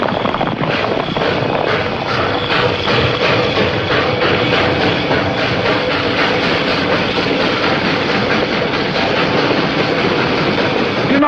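A train running on rails in a 1939 western film, a loud continuous rumbling roar with rapid clickety-clack rhythm of wheels over rail joints, steady and close throughout.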